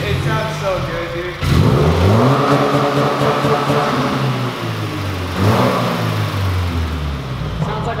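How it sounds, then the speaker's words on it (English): A four-cylinder car engine revs up twice, each loud rise settling back to a steady drone, with people talking close by over the sound. "Sounds like a 4-cylinder."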